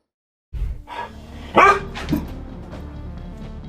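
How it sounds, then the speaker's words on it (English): A husky barks indoors at home, a few sharp close barks after a brief silence, then a quieter lingering growl-like tail. "It barked and then quickly stepped back"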